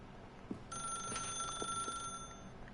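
A telephone rings in the video game The Stanley Parable, a steady electronic ring starting after a short pause and holding on, with faint clicks and thumps around it.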